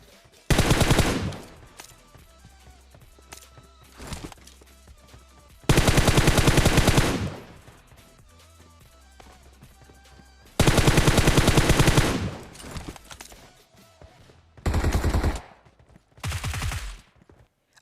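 Bursts of automatic gunfire in the mobile battle royale game Battlegrounds Mobile India, several loud sustained volleys separated by quieter gaps with scattered single shots.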